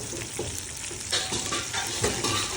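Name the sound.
chili fish pieces frying in oil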